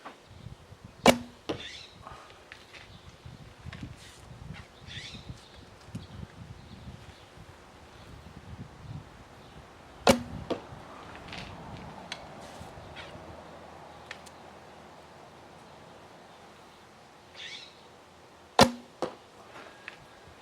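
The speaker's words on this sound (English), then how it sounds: "See if you can hear how much noise the bow makes." Arrows loosed from a 62-inch, 35 lb A&H custom takedown bow give three sharp, isolated snaps spaced several seconds apart outdoors, with soft wind and rustling in between.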